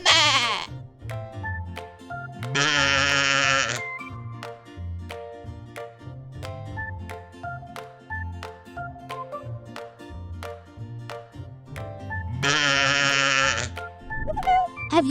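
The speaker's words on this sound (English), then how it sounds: "Sheep." A sheep bleats in a children's farm-animal cartoon, with two long wavering bleats several seconds apart over steady, bouncy background music.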